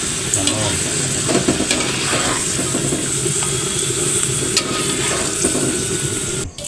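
Salted japuh fish frying in a pan, giving a steady close sizzle and crackle of hot oil with occasional scraping stirs and no talking.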